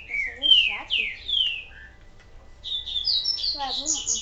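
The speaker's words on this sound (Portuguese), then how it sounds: "Nossa, que passarinho chato." A small bird in Resident Evil 4 chirps repeatedly in bright, sliding whistled phrases, pausing briefly before starting up again, while a person talks underneath.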